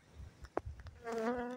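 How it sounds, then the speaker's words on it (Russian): Honeybees buzz around an opened hive frame with honey-filled brood nest, a close, loud droning whine that swells near the end after a few short ticks and flutters. "Пчелка."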